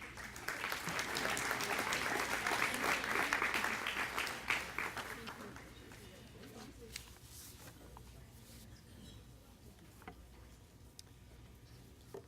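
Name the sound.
banquet audience applause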